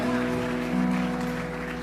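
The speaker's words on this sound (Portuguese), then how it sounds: "Dê um aplauso ao Senhor, gente." A church congregation applauds steadily through a short stretch, the clapping dense and sustained with a low musical drone beneath it.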